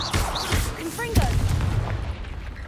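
Fiery Confringo blast spell in Hogwarts Legacy, a loud booming burst with a sharp onset around the middle, surrounded by rumbling combat noise and brief shouted voices.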